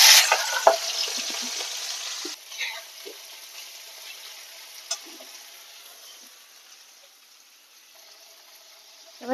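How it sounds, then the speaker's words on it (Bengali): Shrimp coated in salt and turmeric frying in mustard oil in a wok, a loud hiss at first settling into a steady, softer sizzle with occasional pops and crackles. "এবার চিংড়ি মাছটাকে আমি নুন হলুদ মাখিয়ে ভেজে নেবো"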